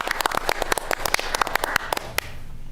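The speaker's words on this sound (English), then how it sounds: "I would suggest that the commission does a little round of applause and appreciation" A small group at a forest and beach commission meeting gives a brief round of applause, scattered individual hand claps rising quickly and then trailing off to quiet after about two seconds, close and moderately loud with no talking.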